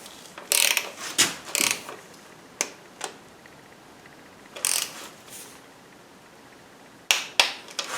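A ratchet torque wrench clicks in quick bursts while bolts are tightened to 27 Nm on a 2012 Nissan Versa, with several short ratcheting runs separated by pauses, close and fairly crisp with no talking.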